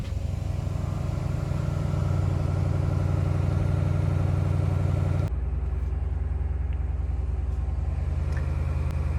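A BMW M850i V8 (G15) engine runs with a deep, steady rumble, then drops to a lower idle partway through; no voices.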